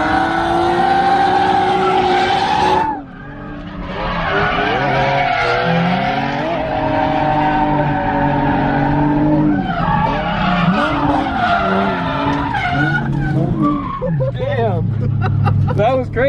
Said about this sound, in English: I've never been drifting with you before.